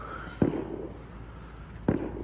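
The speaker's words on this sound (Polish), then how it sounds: "Fajerwerki." Two sharp firework bangs go off about a second and a half apart, each a sudden crack over a low, steady background rumble.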